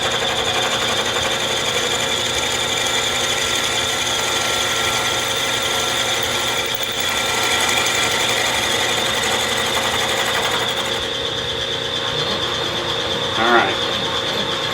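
A Bridgeport milling machine climb mills around the edge of a workpiece, giving a steady, loud mechanical whir with a continuous tonal hum and ratcheting texture, plus a brief knock near the end.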